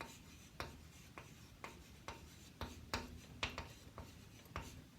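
A pen writes on paper during a math lesson on theoretical probability, making a series of short scratchy strokes and taps in an irregular rhythm, close and fairly quiet, with no voices over it.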